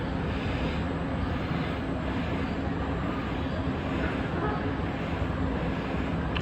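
An SMRT Siemens C651 train on the East-West Line pulls into Paya Lebar station, a loud, steady broadband rumble that holds constant from start to finish.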